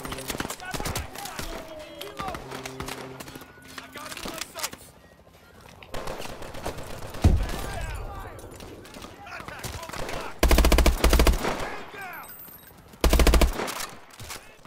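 Bursts of automatic gunfire in Call of Duty Advanced Warfare on the level Collapse, loud salvos from a weak gun cracking among game effects and explosions, mixed with someone talking in several places.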